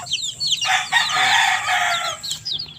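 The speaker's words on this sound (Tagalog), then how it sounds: "Ayun yung mga kobrang manok oh." Cobra chickens on a farm cluck busily and one crows loudly and nearby, with scattered calls from other birds around them.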